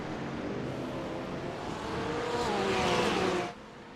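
GT3 race cars in a racing video game brake hard into a chicane, engines roaring loudly and rising in pitch before cutting off abruptly, with faint tire squeal under the steady motor noise.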